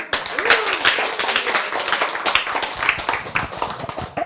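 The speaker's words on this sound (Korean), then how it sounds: "박수!" Listeners at a health lecture break into clapping, a brisk run of sharp, overlapping hand claps at moderate volume that carries on throughout.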